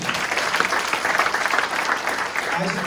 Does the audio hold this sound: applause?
yes